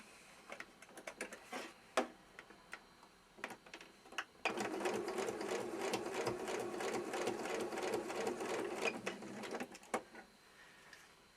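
Sewing machine stitching the arm seam of an Easter bunny toy, a few isolated clicks and short bursts before a sustained run of rapid mechanical stitching, then scattered taps as it stops.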